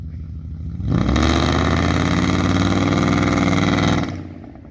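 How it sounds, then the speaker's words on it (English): A BMW 740i with a straight-pipe exhaust starts from a low idle, then roars loudly as it accelerates for about three seconds in a steady, sustained rev attempting a burnout, before dropping back. "I think he's trying to do a burnout, but it's fucking gutless. So loud."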